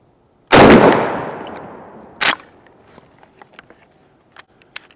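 A shotgun fitted with a Carlson's Long Beard XR turkey choke fires at a turkey target outdoors: one very loud blast with a long fading tail, then a second shorter report, followed by faint clicks and shuffling.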